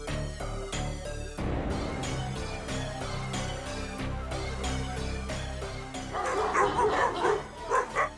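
Several Alabai dogs, a Central Asian shepherd breed, bark repeatedly over a music-like bed, with a louder, busier burst of barking near the end.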